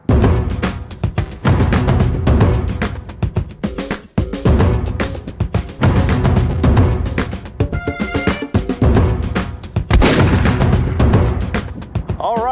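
Rapid loud gunfire from a Bersa Firestorm .380 pocket pistol, dense bursts of sharp close shots in several strings separated by brief pauses, with faint talk between.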